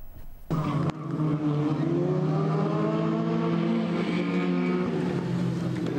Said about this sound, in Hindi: गाड़ियों का शोर